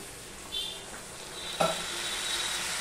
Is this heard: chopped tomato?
yes